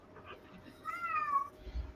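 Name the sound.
cat meowing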